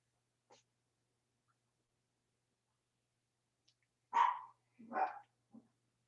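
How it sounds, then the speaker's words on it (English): Dogs bark in the background of a quiet room at home: a short burst of three or four moderately loud barks near the end, following a faint isolated yelp, with no talking. "Also, you're going to hear dogs in the background."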